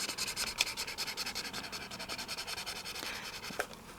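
A green marker pen with bullet and chisel nibs, from a craft kit, rubs back and forth across paper in a steady soft scratching rhythm, close up, with no talking.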